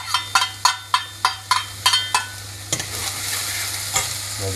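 An onion cooking gently in olive oil without browning, stirred with about eight sharp, evenly spaced scraping strokes close by, then settling into a steady soft sizzle with a few more scrapes.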